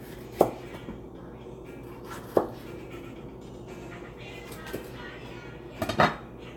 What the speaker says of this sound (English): I'm gonna start chopping the vegetables that we're gonna serve for the white bean dip.